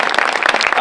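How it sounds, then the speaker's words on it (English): Brief burst of audience applause at the opening of an art show at a metro station, with quick, close, irregular claps at a steady level. "Can we give her a round of applause?"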